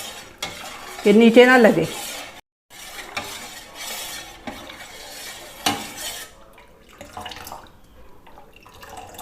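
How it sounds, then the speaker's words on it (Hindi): A spoon stirs custard continuously in a cooking pot, making soft scraping and sloshing sounds in an uneven rhythm, with a brief spoken remark near the start. "मुसलसल चमचा हिलाते जाना है"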